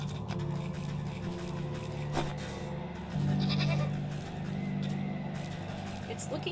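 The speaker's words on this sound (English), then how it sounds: "A mountain goat. A shaggier cousin of the familiar goat?" A shaggy mountain goat bleats in the fantasy crafting game Wytchwood, one drawn-out call rising over a steady ambient game soundscape.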